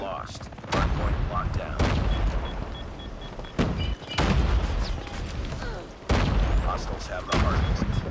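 Heavy blasts and bursts of gunfire in a Call of Duty multiplayer match, loud booms landing every second or two with rumbling tails and scattered shots in between.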